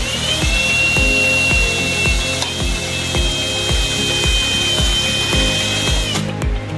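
A power drill bores through a plastic tool case, a loud continuous whining motor with rapid rhythmic thumping as the bit bites, steady for about six seconds before winding down, with no talking.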